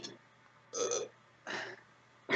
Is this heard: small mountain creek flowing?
no